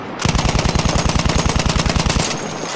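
Light machine gun in Battlefield 1 multiplayer on the Galicia map fires one sustained burst of about twenty evenly spaced rapid shots, loud and close, ending abruptly into a lingering rumble.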